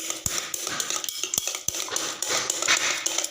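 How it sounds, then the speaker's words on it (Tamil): A utensil beats quickly against a bowl, with scraping strokes and a few sharp clinks, as eggs are whisked with salt up close. "உப்பு போட்டு நல்லா அடிச்சுக்குவோம்"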